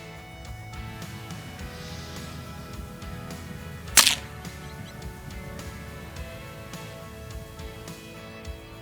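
Single crisp crack of a .22LR rifle firing an Eley High Velocity hollow-point round outdoors, one sharp close shot over steady ambient background noise.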